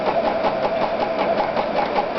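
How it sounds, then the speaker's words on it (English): A home sewing machine runs a basic zigzag stitch, steady close mechanical whirring with a rapid even needle rhythm, loud and continuous without any voices. "Basic zigzag stitch."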